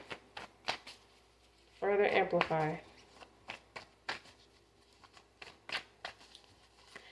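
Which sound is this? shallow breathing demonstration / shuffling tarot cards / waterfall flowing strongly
shuffling tarot cards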